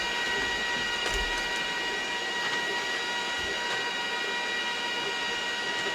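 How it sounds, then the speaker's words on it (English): A machine cuts and engraves butterfly shapes into leather, giving a continuous steady mechanical hum with faint ticks as it moves back and forth. "It is going back and forth, and it is cutting that and engraving it."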